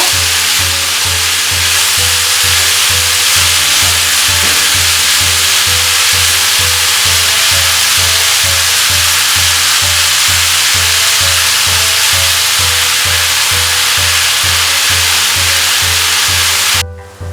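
Mushrooms fry in a pan with a steady, loud hiss and sizzle that runs unbroken for the whole stretch over a rhythmic low hum, cutting off abruptly at the end.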